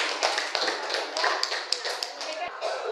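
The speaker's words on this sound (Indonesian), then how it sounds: "Nah, kita berikan tepuk tangan untuk kelompok." A classroom of students claps for a presenting group during a school lesson, a quick flurry of close, light handclaps lasting a few seconds.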